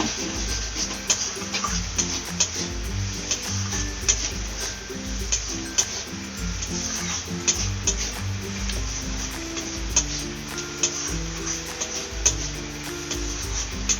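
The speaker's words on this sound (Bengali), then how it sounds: "তো এটা ছোট চিংড়ি, ওই জন্য সুন্দর ভাজাও হয়ে গেছে মশলার সাথে।" Small shrimp fry with spice paste in a wok, giving a steady close sizzle with occasional stirring scrapes over background music.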